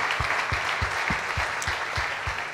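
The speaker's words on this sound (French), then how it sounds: "sous vos applaudissements, j'imagine." Audience at a business awards ceremony in Lille applauds steadily, a sustained wash of many hands clapping at an even level with no speech over it.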